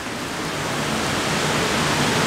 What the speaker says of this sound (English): it's raining like really, really heavily right now